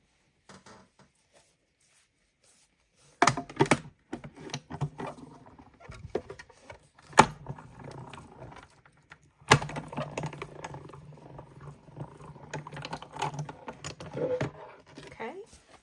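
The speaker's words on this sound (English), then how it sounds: "while I run it through the stamp cut and emboss machine" A stamp, cut and emboss machine cranks a card die through, giving a close, steady, gritty rolling patter with sharp clicks and bursts that stop and start.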